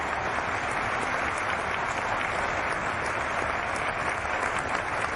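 Applause sound effect played during a flight-simulator livestream, a steady wash of dense clapping and crowd noise lasting the whole stretch at an even level, with no voice over it.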